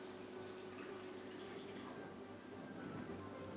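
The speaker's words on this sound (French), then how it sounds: "Ok, donc nous mettons de l'eau." Water runs steadily from a tap into a cooking pot while preparing pumpkin curry, a continuous close splashing stream under faint background noise.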